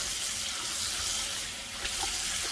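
Beef tripe being washed whole under running water from a tap, a steady close hiss and splash of flowing water that carries on without a break.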